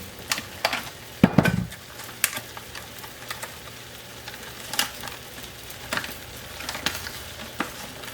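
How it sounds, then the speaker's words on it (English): Buttered rye bread set butter side down in a hot non-stick skillet, giving a soft sizzle with a sharp clatter of the pan and a few light clicks of utensils. "We're gonna place it butter side down in the pan."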